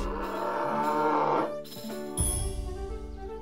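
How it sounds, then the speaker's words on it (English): A cartoon cow in South Park: The Stick of Truth gives a long, low moo, then a shorter grunting moo, heard clearly with no talk over it. "This is the cow I'm supposed to hit?"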